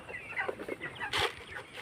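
Chickens cluck in quick, overlapping bursts close by, with one louder squawk partway through.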